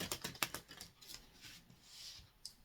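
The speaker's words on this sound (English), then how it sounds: "Last shuffle here by 3." A deck of oracle cards is shuffled close up, quick crisp riffling taps in a burst at first, then softer scattered flicks and a last sharp snap, all quiet with no talk.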